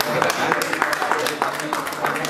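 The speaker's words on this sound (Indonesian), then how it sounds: "tepuk tangan" Room audience clapping at an Indonesian teachers' facilitator training event, a steady patter of hands with distinct individual claps, mixed with voices talking over it.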